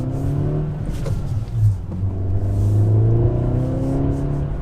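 An Acura Integra engine revs up quickly toward redline, heard from inside the cabin, its pitch climbing and shifting through gears in a steady, droning acceleration.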